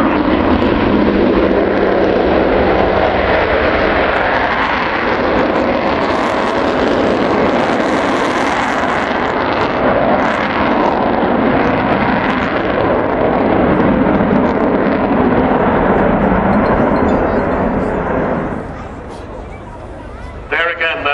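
Avro Vulcan XH558 jet bomber taking off at the RAF Waddington airshow, a loud continuous roaring jet thunder sustained for about nineteen seconds before dropping away, with crowd noise and a commentator under it.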